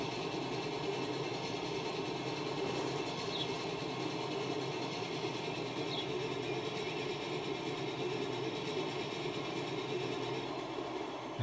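A Big Boy heavy train in the Transport Fever video game climbs toward a high steel trestle, giving a continuous, even rumble and mechanical clatter at steady loudness throughout.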